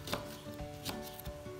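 Vegetables such as carrots being chopped with a knife on a board for buckwheat with chicken, giving a few close, soft, irregular knocks with no one talking.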